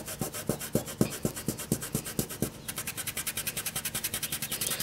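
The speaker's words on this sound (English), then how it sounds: "as you rub it, it's going to start sparkling" A fingertip burnishes glitter into a paper surface with quick rhythmic rubbing strokes, close and crisp, slowing at first and then speeding into a fast, even back-and-forth scrub.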